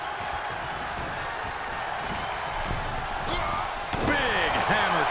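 A wrestling slam lands in the WWE 2K22 game during a tag team match, a sharp impact thud over a loud, roaring arena crowd with a commentator talking throughout.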